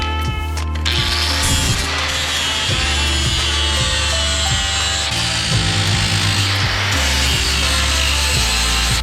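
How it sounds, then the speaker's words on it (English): A power grinder cuts away small plastic clip nubs on a 2020 Ford EcoSport body panel, making a loud, harsh, continuous grinding roar held steadily for about nine seconds, close up, with no talking. "So now we just grind these little nubs off right here."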